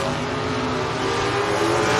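A Ford Mustang drag racing down the strip at a bracket racing event, its engine a loud, sustained roar that holds steady and close for the whole moment.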